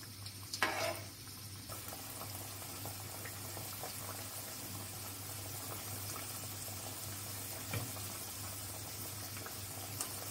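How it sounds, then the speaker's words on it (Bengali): Paneer pieces fry in oil with a faint, steady sizzle and light bubbling, plus a brief knock of a utensil early on; quiet and even throughout. "আর গোল্ডেন ব্রাউন কালার হওয়া পর্যন্ত এগুলোকে ভাজবো।"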